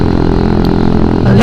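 Motorcycle ridden on an Indonesian road accelerating from 40 to 60, a loud steady engine drone that rises into a sharp rev toward the end.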